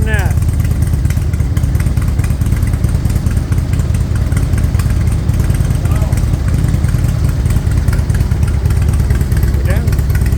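A 2001 Harley-Davidson Electra Glide V-twin idles close by in a repair shop with a loud, steady lumpy rumble through the whole stretch, while voices talk briefly over it at the start and end.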